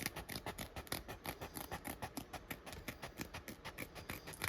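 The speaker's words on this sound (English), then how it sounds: "Love these little scissors." Small scissors snipping steadily through material during an unboxing at a craft table, a quick run of crisp, close cuts in an even rhythm with no talking.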